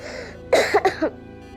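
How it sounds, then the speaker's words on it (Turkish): A child coughs in a short cluster of three or four harsh, close coughs, then it goes quiet again. "Öksürüyor bu."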